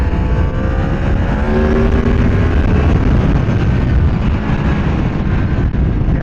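Yamaha MT-10 SP motorcycle ridden through a corner, its engine droning loud and steady throughout with shifting harmonic tones as the revs rise and fall, mixed with constant wind rush.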